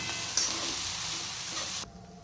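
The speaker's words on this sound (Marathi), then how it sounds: "शिजवून घेतलेला भात मिक्स करायचं" Cooked soybean rice stirred in a hot pan gives a steady, close sizzle and scraping hiss that stops abruptly near the end.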